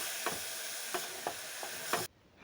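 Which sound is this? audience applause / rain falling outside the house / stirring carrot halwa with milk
stirring carrot halwa with milk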